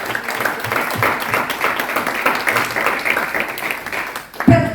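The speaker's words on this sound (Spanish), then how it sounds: "Dale un fuerte aplauso al Señor si tú crees" A church congregation at a Mother's Day service claps together in a full, rolling wave of applause with a faint rhythmic pulse, fading out as a voice speaks at the very end.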